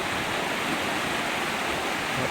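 Steady broadband rush of water from a waterfall pouring past a wooden slatted fish trap at Li Phi falls in Laos, a constant loud roar with no pauses throughout.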